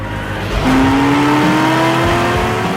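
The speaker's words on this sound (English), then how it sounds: "A muscle car icon reborn, the Chevrolet Camaro" Chevrolet Camaro SS muscle car engine revs up hard and loud, a rising, sustained roar climbing in pitch across a few seconds, close and dominant with no talk.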